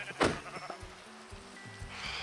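Minecraft sheep give a loud bleat up front, followed by several softer game bleats and thuds, with a faint ambient hum under them and no talking.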